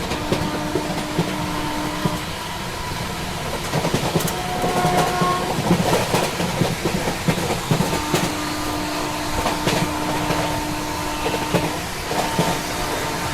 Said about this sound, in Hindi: यहाँ पे क्रॉसिंग हो रही है अपनी फिलहाल अमरपुर अरावली एक्सप्रेस से।